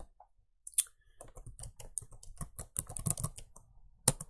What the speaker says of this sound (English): Just type in Genymotion and it'll start.